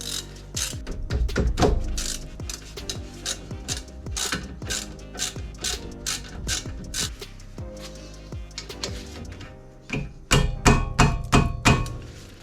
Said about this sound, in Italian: andremo a togliere i due bulloncini da 13 che si trovano qui. Bussola da 13 con il cricchetto